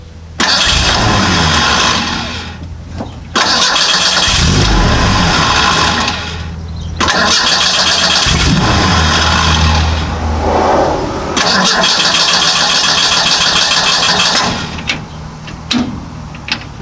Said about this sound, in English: It fires on crank but it won't stay running.